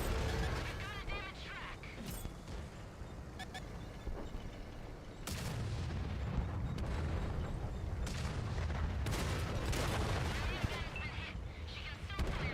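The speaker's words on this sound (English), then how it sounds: "Oh, look at that artillery." Artillery rounds and explosions boom and crack in a tank-combat video game, with dense heavy blasts continuing throughout and a louder surge of impacts about midway, while a voice talks over parts of the battle noise.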